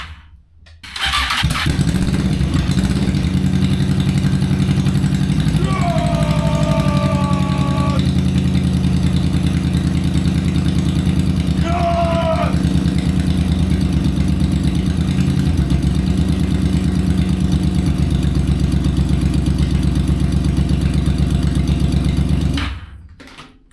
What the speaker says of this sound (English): Yes, we have a running engine.